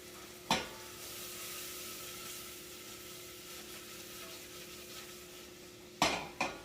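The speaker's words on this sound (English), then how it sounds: "I'm using a sweet onion. I'm going to let that caramelize." Sweet onion caramelizing in a pan over medium-high heat gives a steady, moderate sizzle throughout, with a sharp utensil scrape or stir near the start and two more clatters toward the end.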